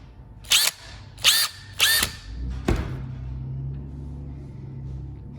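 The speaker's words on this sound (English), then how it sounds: "drill with a 1/8 inch drill bit" A power drill with a 1/8 inch bit whines in three short bursts, each a second or less, followed by a louder thud and a low mechanical rumble that fades.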